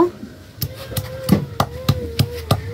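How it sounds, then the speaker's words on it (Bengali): Whole garam masala and cumin being crushed together on a grinding stone, a series of firm knocking and grinding strokes in an uneven rhythm, close and fairly loud. "দেখেন গোটা গরম মশলা আর গোটা জিরা আমি একসঙ্গে বেটে নিব।"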